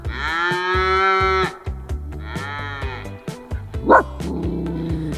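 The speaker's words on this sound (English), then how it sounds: "our lunch is now interrupted by some cows" Loud, drawn-out cow moos, several in a row, close by outdoors on a hike in Sweden, with short dog barks breaking in toward the end.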